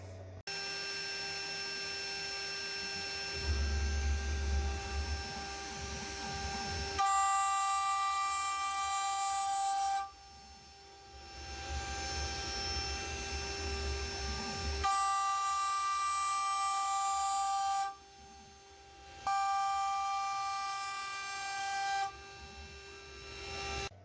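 A DIY CNC router spinning a PCD endmill at 24,000 RPM, climb-milling a face on 6082 aluminium, giving a steady high whine with strong harmonic tones that cuts in and out across several passes, no talking.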